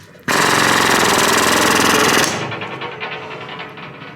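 A pneumatic air tool rattles loudly and steadily for about two seconds beside a John Deere 2305 mower, then cuts off into a softer whirring spin-down.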